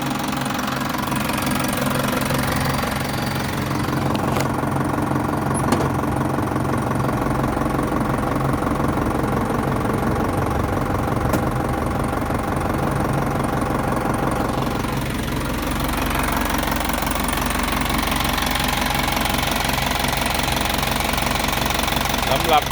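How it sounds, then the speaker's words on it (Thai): An Isuzu NPR130 six-wheel truck's 4HG1 diesel engine idles with a steady knocking rumble, close and continuous, while someone talks over it. "เครื่องยนต์"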